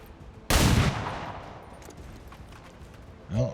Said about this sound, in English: Pistol or watch, fire pistol.